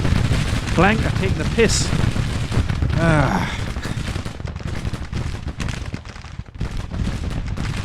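Cannon fire and battlefield booms from the Civil War strategy game Grand Tactician, a sustained, dense barrage of loud gunfire running throughout, with a voice speaking briefly over the first few seconds.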